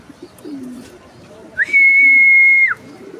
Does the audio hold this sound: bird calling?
yes